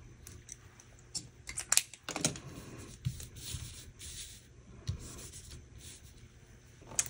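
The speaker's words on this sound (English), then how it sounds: "I'm just using my Uniball Signo to camouflage this line behind this clear sticker." Uniball Signo gel pen scratching on a clear sticker in a planner journal, quiet intermittent strokes and small taps, close and soft with pauses between marks.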